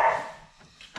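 A dog gives one sharp bark up close outdoors in snow, followed by a couple of faint short yips trailing off.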